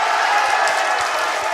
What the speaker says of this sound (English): The crowd clamoring for a foul.